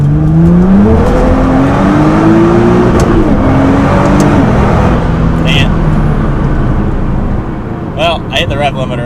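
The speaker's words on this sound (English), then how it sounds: "Well, I hit the rev limiter, so we're going to redo that one." A tuned Nissan GT-R's engine roars loud and steady as the car accelerates in gear under high boost, revs climbing to a sustained drone with faint whirring, close up and continuous throughout.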